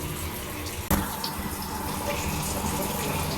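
Water from a shower runs in a steady, continuous spray close by, with a brief knock or click near the start and no talk over it.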